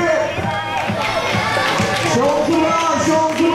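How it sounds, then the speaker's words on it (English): A crowd cheers and shouts continuously at a women's point fighting final in a martial arts arena, loud and dense throughout with excited voices mixed in. "Let's cheer for these ladies."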